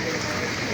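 Steady rain hisses on surfaces during typhoon flooding in Manila, a dense, even wash of sound that fills the short moment.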